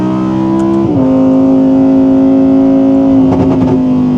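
A 2023 Audi R8 GT engine drones loudly and steadily while driving, its pitch dropping sharply just before one second as the gear changes, then holding until a brief surge of revs near the end.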